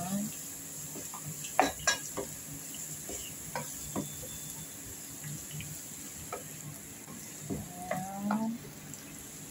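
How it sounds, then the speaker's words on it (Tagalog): Garlic fries in a pan for chicken biryani, with a faint background sizzle broken by scattered clinks and scrapes of a utensil stirring, heard quietly and close. "Dadagdag na din natin yung garlic."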